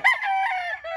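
A gamecock rooster lets out a single loud, close crow lasting about a second, a strained, harmonic call that rises sharply and then holds steady before cutting off.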